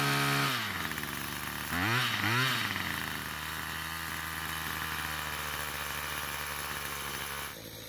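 A Troy-Bilt pole saw's small two-stroke engine runs close by, revving up twice in quick blips, then settling into a steady buzzing idle before cutting out.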